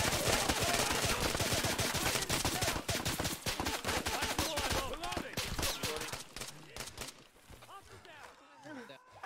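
A firefight in Arma 3 with dense rapid gunfire, automatic bursts and single cracks overlapping loudly and near, thinning out toward the end while voices talk over the shooting.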